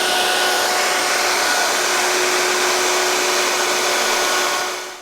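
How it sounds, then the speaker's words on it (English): A router cuts a juice groove into an end-grain wooden cutting board, giving a loud, steady, close high-pitched whine that runs throughout and fades at the very end. "now I can come ahead with my router and route this thing out"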